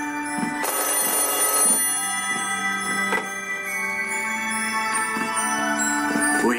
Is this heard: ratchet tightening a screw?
no